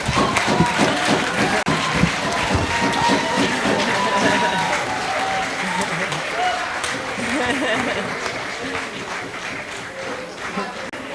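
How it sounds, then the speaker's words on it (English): An audience at a live-streamed Curaçao radio event applauds continuously for several seconds, a dense crowd clapping with some cheering and voices mixed in. "give him a round of applause"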